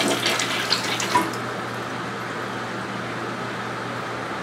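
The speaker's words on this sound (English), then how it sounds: "I'm gonna flush the toilet and you'll see that it's not gonna work." A clogged, backed-up toilet is flushed, giving a short rushing gush of water that quickly settles into a steady, weak trickle and low hiss as the bowl fails to drain.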